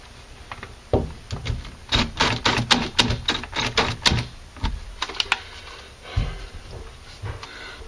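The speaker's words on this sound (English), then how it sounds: "Take the screwdriver and screw it deeper into the wall." A screwdriver drives a screw deeper into drywall, a close run of sharp irregular clicks and ratcheting taps in quick bursts with short pauses between.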